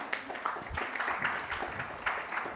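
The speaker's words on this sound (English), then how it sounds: "Round of applause, ladies and gentlemen." An audience at an Indian national mental health survey launch event applauds as a government health minister is welcomed, steady clapping filling the hall at moderate, somewhat distant loudness.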